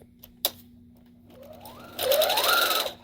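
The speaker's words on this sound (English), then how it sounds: "I get about to elbow length of sewing the sleeve" Sewing machine stitching a sleeve in flat construction, a brief click and quiet pause, then the motor whirring up and running steadily for about a second, close and alone.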